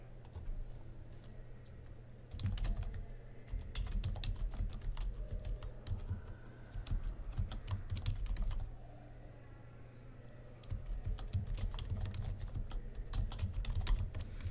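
Quick clicking keystrokes on a computer keyboard while writing HTML and CSS code, close and quiet, in irregular bursts separated by short pauses, over a low steady hum.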